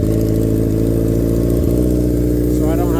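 A Honda CBR600RR motorcycle engine idles roughly with the idle screw set high, a steady loud low throb with a brief stumble partway through and a faint high whine toward the end.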